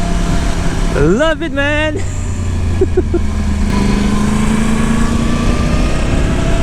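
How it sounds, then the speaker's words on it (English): Yamaha YZF R1 superbike with its crossplane engine, a 1000cc machine, rumbling steadily close by with a brief rising rev, while someone speaks over it. "Wow, the sound of the crossplane engine."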